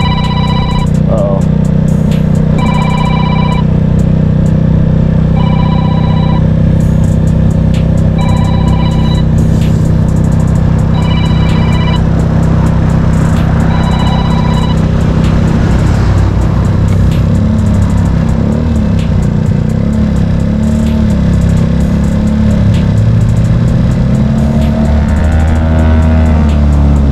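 A Tao Tao Chinese scooter with a GY6 engine runs steadily at idle, a loud continuous low drone throughout, with some beeping tones and brief speech over it.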